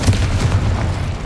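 A Confringo blasting spell from Hogwarts Legacy erupts as a loud, continuous series of deep booming explosions lasting the whole moment, heavy and rumbling with no talk.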